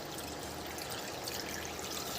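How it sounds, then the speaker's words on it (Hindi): Water pours steadily into an old frying pan, a continuous splashing trickle that stays even throughout with no talking. "अब हम इसको पानी से भर देंगे।"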